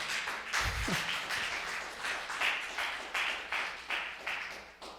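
A church congregation applauding in steady rhythmic bursts, clapping together in time, fairly distant and continuous throughout.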